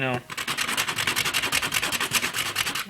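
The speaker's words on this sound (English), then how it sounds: "I do have 50 grit sandpaper here too, so I'm gonna actually use that first." Coarse 50-grit sandpaper rubbed by hand on a homemade tamper, heard as loud, close, fast back-and-forth scraping strokes in a steady rhythm, about two dozen passes with no talking.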